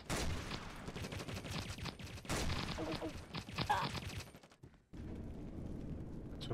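Gunfire in a video game trophy match, dense bursts of shots at close range through the first few seconds, then a brief drop and quieter background game sound.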